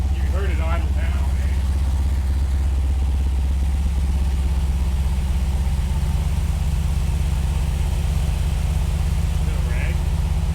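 A Plymouth V8 fitted with a Holley Terminator fuel injection system idles steadily with a deep, even, slightly clattery rumble, close and continuous, and a voice speaks briefly at the start and near the end.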